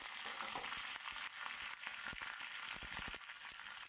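Curry leaves and green chilies sizzle in hot oil over a mustard-seed tempering: a close, dense crackle with sharp pops and spatters, and bursts of stirring scrapes through the short stretch.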